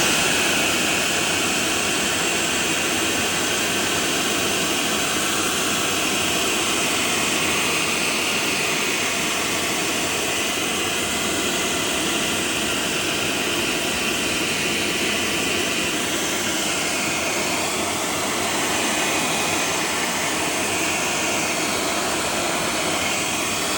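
A hair dryer blows hot air onto wet wax along the seam of a Barbour waxed cotton jacket, giving a loud, steady, unbroken whoosh that runs close and alone throughout.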